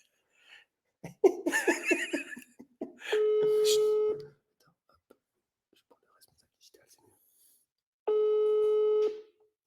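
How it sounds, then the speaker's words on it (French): A telephone ringing unanswered, two long electronic ring tones separated by a silent gap, with whispered voices and giggling before the first ring. "Ça ne décroche pas."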